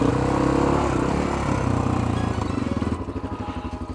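Honda XR650R dirt bike engine running while ridden, a loud close single-cylinder thump that holds steady, then eases off into slower, pulsing firing beats as the revs drop.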